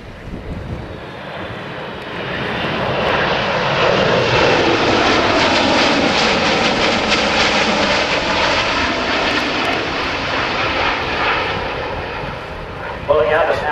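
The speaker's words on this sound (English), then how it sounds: "From the right now, high-speed pass, 300 knots, the C-17 Globemaster 3" A Boeing C-17 Globemaster III transport jet makes a high-speed pass at about 300 knots at an airshow at Dover AFB, its broad engine roar swelling and sustained for over ten seconds with wind buffeting and an announcer audible.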